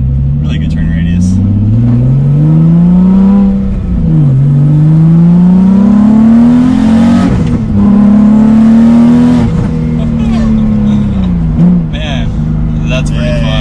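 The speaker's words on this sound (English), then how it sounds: "Sounds so good, like the blow-off valve." A turbocharged Nissan 350Z engine revs loudly and rises in pitch through the gears, with a sharp hissing blow-off valve burst between shifts and occasional voices over the roar.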